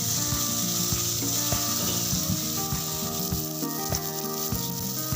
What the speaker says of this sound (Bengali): নেড়ে নেড়ে এটা ভালো করে ভেজে নিতে হবে